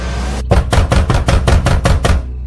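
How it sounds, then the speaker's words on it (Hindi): Loud, heavy knocks on a door in a Hindi horror cartoon come as a rapid series of about eight evenly spaced thuds, close and forceful, then stop abruptly. "किसी ने दरवाजे पर जोर से दस्तक दी"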